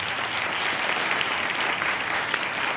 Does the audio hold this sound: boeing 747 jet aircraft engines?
no